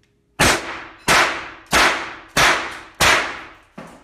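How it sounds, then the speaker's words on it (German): Five sharp, loud blank shots from an StG44 blank-firing rifle, fired alone at an even pace of roughly one per second, each crack trailing a short decay. "einwandfrei, 5 Schuss durch, Verschlussfang springt rein, so wie es sein soll"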